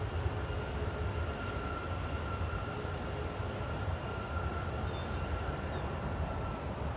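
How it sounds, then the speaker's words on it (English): A WestJet airliner taking off at Nashville International Airport, a steady, distant broadband engine roar that holds at an even level throughout with no voices. "WestJet takes off."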